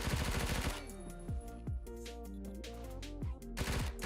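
Rapid bursts of MP5 submachine gun fire in the Phantom Forces video game, loud and close, with several sharp automatic volleys separated by short pauses and ringing tonal game sounds between them.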